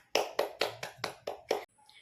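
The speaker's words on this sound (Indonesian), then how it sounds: "Tepuk tangan dulu untuk anak-anak ibu semuanya karena udah semangat belajarnya." Children in a classroom clap their hands in seven sharp, evenly spaced claps, close and crisp, which stop abruptly.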